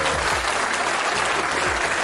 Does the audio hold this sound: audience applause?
yes